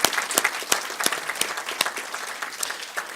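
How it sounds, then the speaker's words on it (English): Sustained applause from an audience at an evening awards ceremony, a dense steady clapping that stays fairly loud throughout with no talking. "please give yourselves a big round of applause"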